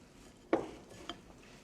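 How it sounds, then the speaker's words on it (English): Butter, sugar and vanilla extract are mixed in a bowl, heard as one sharp clink and scrape followed by a softer knock, faint and brief, with no talk. "Mix everything together"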